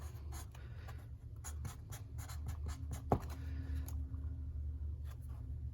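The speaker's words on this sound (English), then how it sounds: "let's just go draw an IAT sensor down here." A pen or marker draws an IAT sensor wiring diagram, making quiet, close scratchy strokes in short rapid bursts with a single sharp tap partway through.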